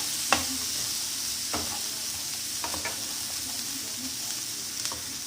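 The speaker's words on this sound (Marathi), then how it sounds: "त्यामध्ये थोडं जिरं टाकूया, 1 चम्मच, ते सुद्धा छान परतून घ्यायचं" A spoonful of cumin seeds fries in hot oil in a pan while a matar paneer is being cooked. A steady close sizzle runs throughout, broken by a few sharp clinks of stirring.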